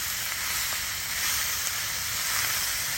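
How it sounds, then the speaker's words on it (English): Meat searing for fajitas in a pan gives off a steady, close, even sizzle with a bright hiss, with no breaks throughout. "while this is searing in, we're getting some goodness stuck to the bottom of the pan"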